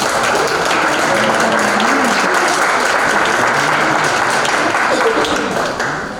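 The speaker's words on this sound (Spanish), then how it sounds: "para quien pido un fuerte aplauso" An audience at a legal conference applauds a speaker, dense sustained clapping from a crowd that stays full and even before tapering off in the last moment.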